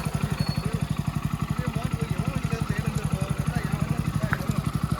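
A Hero motorcycle engine runs close by with a rapid, even thumping beat, steady and unchanging.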